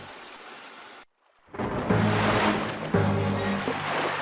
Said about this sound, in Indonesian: seketika itu angin bertiup kencang dan menggoyangkan sebagian badan kapal